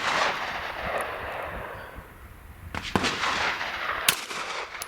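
Smith & Wesson M&P handgun fired outdoors with a limp-wrist grip, a few sharp sharp reports over steady wind-like background noise, with one crack near the end.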